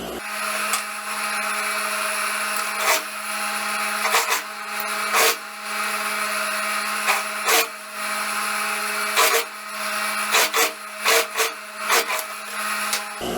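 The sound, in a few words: sewing machine stitching a sleeve seam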